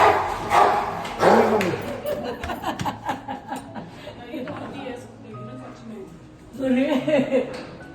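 Dogs bark in a residential housing society, a few loud barks near the start and another burst near the end, under and between people talking and laughing.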